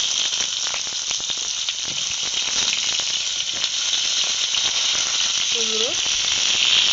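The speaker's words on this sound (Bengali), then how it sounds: "এবার একে একে করে সব সবজিগুলো দিয়ে দেব।" Mixed vegetables such as carrot, pumpkin, radish and kohlrabi hitting hot oil in a pan, a loud, constant hissing sizzle throughout, with a brief faint voice-like tone near the end.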